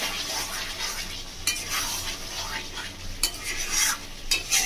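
Bengali chicken kosha cooks down in spices in a pan, giving a continuous close sizzle with brisk stirring and occasional clinks of a spoon against the pan, with no voices.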